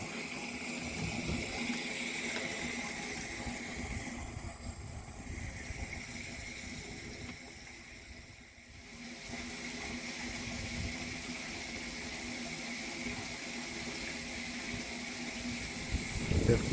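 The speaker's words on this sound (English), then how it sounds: "I'm waiting for this tank to get full and see if the valve closes" Water running steadily into a 10,000-litre tank on a tank tower, a continuous rushing, pump-like flow heard close up, holding an even level with a brief dip midway.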